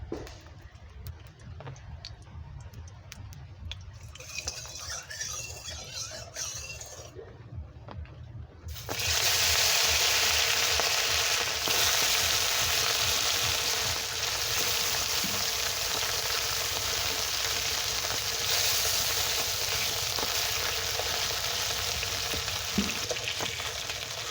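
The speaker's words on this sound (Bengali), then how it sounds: "এবার প্রথমে মাছটা আমি ভেজে নেব। কড়াই সরষের তেল দিচ্ছি।" Fish frying in mustard oil in a kadai over a lit stove, a steady loud sizzle that swells sharply partway through and then holds as a dense continuous hiss with occasional stirring, no talk.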